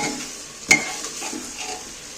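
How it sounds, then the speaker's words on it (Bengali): Egg and jackfruit curry masala is stirred and fried down in a pan, a soft sizzle under scraping strokes, with one sharp clink of a spoon against the pan early on. "একে যত কষিয়ে নেবে ততই কিন্তু টেস্ট হবে"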